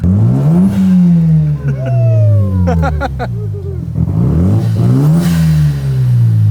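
A JDM Mazda RX-7 accelerates hard, its engine note climbing loudly through rising sweeps that drop at each gear change, close and dominant, with brief chirps and some voices underneath.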